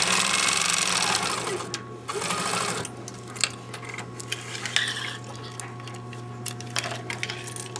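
A sewing machine stitches a seam in a rapid, steady burst that fades into quieter clicks and small metallic handling sounds as the sewing stops.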